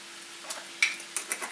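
Four pounds of onions stirred in butter in a stock pot, giving a faint sizzle with a few soft scrapes and taps of the spoon, quiet and close, no talking.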